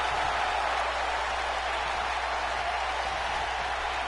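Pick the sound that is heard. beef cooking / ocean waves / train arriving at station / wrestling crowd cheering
wrestling crowd cheering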